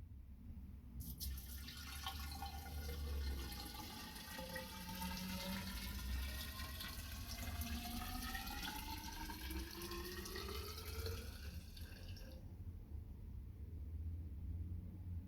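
Esso Synergy Supreme E5 petrol pouring steadily into a container, a continuous liquid stream with rising fill tone lasting about eleven seconds, fairly close, with no talk.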